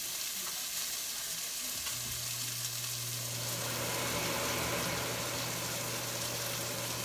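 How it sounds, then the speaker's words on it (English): Onion sautés in a hot pan with a constant hissing sizzle, and a low steady hum from a kitchen fan joins partway through, growing a little louder. "Saute it a little bit"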